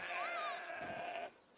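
In A Plague Tale: Requiem, a goat lets out a long, wavering bleat at close range, clear for about a second before cutting off, with speech at a low level.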